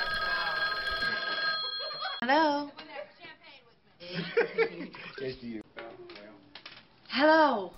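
A telephone rings with a steady electronic tone at the start, followed by people talking and a few short laughs.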